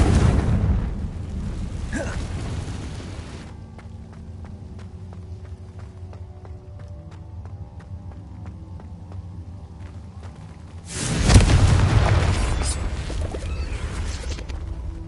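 Fire-spell explosions in Hogwarts Legacy: a loud blast at the start fades into calmer game ambience, then a second sharp, heavy burst hits near the end and rumbles on.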